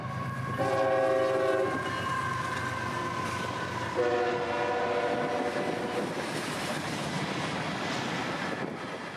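A freight train loaded with rock rumbles past with a steady rolling clatter, its horn sounding two long blasts near the start.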